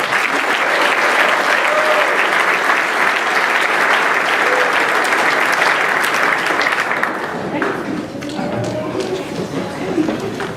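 A large audience at a military graduation ceremony applauds the graduates in loud, dense, continuous clapping that thins after several seconds, with some voices and shuffling underneath.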